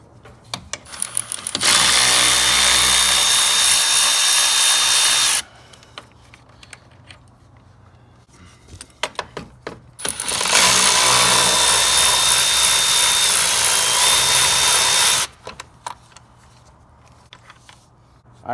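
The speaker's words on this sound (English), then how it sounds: "now we need to remove both bolts on the top of the shroud, one on the driver, one on the passenger," A power tool drives a 10mm socket on the cooling fan shroud bolts of a 2015-or-later Ford F-150. It runs in two sustained loud whirring bursts, one about four seconds long and one about five, separated by a quieter pause.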